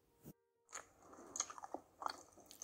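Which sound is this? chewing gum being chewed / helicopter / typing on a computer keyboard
chewing gum being chewed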